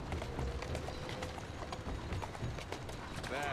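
Horse hooves clop at a quick, galloping pace in the video game Assassin's Creed: Syndicate, under a dense, noisy background, with steady rhythmic impacts throughout.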